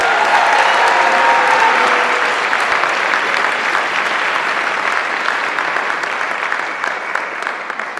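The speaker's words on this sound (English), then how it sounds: "Let's clap and cheer and give it up big time for Teigan Avery as she takes the stage" An audience at a University of Montana suicide prevention event claps and cheers as a speaker takes the stage, dense sustained applause lasting several seconds and slowly fading.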